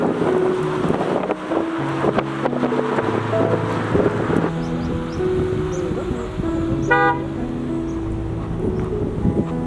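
A big passenger bus sounds its horn close by at a rural wedding, with sustained honking blasts over wind noise and a busy outdoor background.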